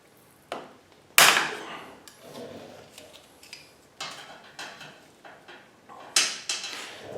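Motorcycle chain link snapped off with pliers during a KLR650 chain and sprocket change, a few sharp metallic cracks and clicks, the loudest near the start and another later, scattered among quieter handling clatter.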